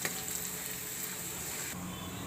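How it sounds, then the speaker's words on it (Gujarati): Sesame seeds sizzle in hot oil in a pan for a whole onion curry, a steady close crackling hiss that runs without a break and gets slightly brighter partway through. "હવે આપણે આ તલ નાખી દઈશું તલ સરસથી આપણે શેડવી લઈશું"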